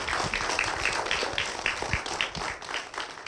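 An audience at a church testimony programme gives brief, moderate applause to welcome a speaker, the clapping thinning out toward the end with faint voices underneath.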